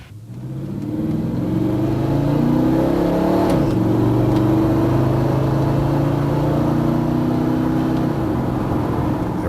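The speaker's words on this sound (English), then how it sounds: "Then try some upshifts at 3/4 throttle to see if the clutches and band are in normal" A car with a 2004R automatic transmission and a newly installed shift kit is road-tested at three-quarter throttle. The engine revs climb steadily, drop at a clear upshift, then pull up again toward a second shift, loud and close with no talking.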